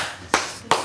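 Two sharp hand claps land about a third of a second apart, close and distinct over a faint room hum.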